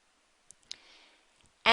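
A computer mouse clicks a link on a website, giving a few faint, sharp clicks spaced apart over a quiet background before a louder burst at the end.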